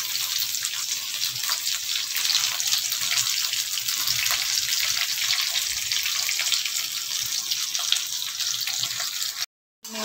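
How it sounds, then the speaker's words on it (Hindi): Potatoes and onions frying in a pan while being browned for a simple aloo sabzi, a loud dense continuous hiss of sizzling oil, steady throughout with a brief dropout near the end. "मैं इसे फ्राई कर रही हूँ"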